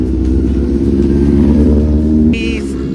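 A 2019 Yamaha R1 motorcycle engine holds a loud, steady, close revving drone, with a brief higher whine rising near the end.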